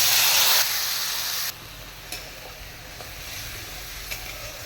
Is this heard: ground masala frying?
yes